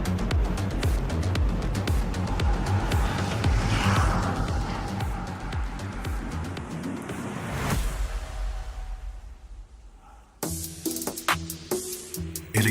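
Three-motor electric car launching hard on a snowy winter track, a loud rushing whine and tyre-and-wind roar building for several seconds, then fading into quiet before sharp clicks and knocks close by.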